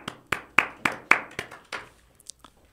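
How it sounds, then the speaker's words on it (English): A small audience at a storytelling event on Orchard Street gives a short burst of about seven sharp claps that fade into a few scattered, quieter ones. "It's okay to clap for yourself and your colleague."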